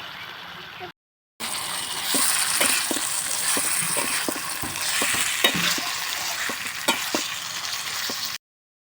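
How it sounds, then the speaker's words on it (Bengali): Vegetables stir-fry in a wok after onion and garlic, with a steady loud sizzle and repeated sharp scrapes of a spatula against the pan, broken by brief silences at the start and end. "পেঁয়াজ রসুন ভাজা হয়ে গেছে, এবার তরকারি গুলো দিয়ে দিব"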